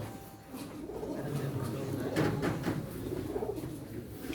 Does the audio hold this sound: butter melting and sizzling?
no